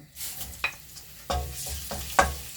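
Chopped garlic tipped into hot oil in a pan for soy meat curry, frying with a steady sizzle and a few sharp scraping stirs close by, no voices.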